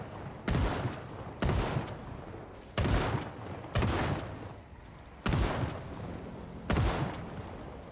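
Six heavy gunshots fired at zombies in Project Zomboid, spaced a second or so apart, each a sharp loud crack trailing into a short decay, with no talk over them.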